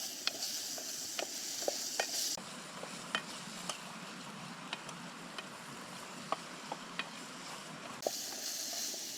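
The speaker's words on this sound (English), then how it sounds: "So we'll stir it up with our wood spoon" Garlic is stirred with a wooden spoon in a pan while cooking outdoors by a Southeast Alaska creek, with faint clicks and scrapes over a broad, steady hiss of sizzling and flowing water, no one speaking.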